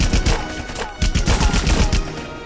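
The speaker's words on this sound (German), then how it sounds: "Bei diesem atemlosen Geballer." Rapid bursts of automatic gunfire in Rambo: The Video Game, loud and close, two clusters of fast cracks with a brief lull between them.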